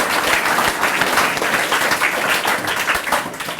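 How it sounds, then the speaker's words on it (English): Loud, dense applause from the audience at a children's award ceremony in Fiji, continuous clapping from a large crowd filling the whole stretch, with no break and only faint voices beneath. "I'd also like to give her a round of applause"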